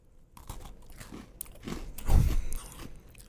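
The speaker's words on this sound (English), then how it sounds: "Mic crunch. There's a mic crunch." Crunchy bites into a cookie made right up against a microphone, a few crisp crunches building to one loud close bite near the middle, with no talking.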